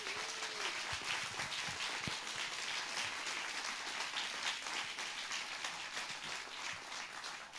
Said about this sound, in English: So a big applause and cheering for Judith